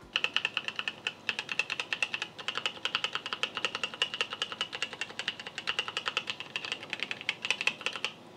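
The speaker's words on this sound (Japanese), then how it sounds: "タイピング音のうるささなんですけども、赤軸なので結構静音性は高いと思います。" Quick, steady typing on a mechanical keyboard with red switches, a dense run of soft clacking keystrokes at close range with brief pauses between bursts and no talking.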